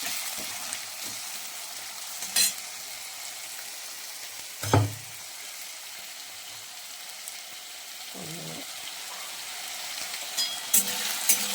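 New potatoes fry in a pan with a soft, continuous sizzle, broken by a few brief clanks and scrapes of stirring, and no voices.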